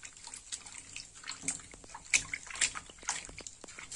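A knitted garment is hand washed in a basin of soapy water, with irregular squelches, sloshes and drips as it is gently squeezed, close and moderately loud, with no one speaking.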